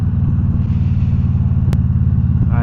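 A motorcycle engine idles up close, a loud, steady low rumble with even pulsing firing beats that stays constant throughout, with one brief sharp click midway.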